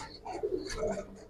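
Pigeons at a farm of Giribaz and coloured breeds give a short, soft low coo close by, quiet and unaccompanied by speech.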